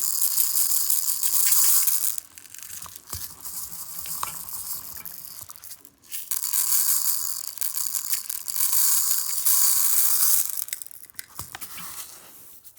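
Magnum balance beads poured by hand into a 35x12.50-17 tire, a gritty rattling rush in two long pours separated by a short pause, with faint scraping between, steady and close.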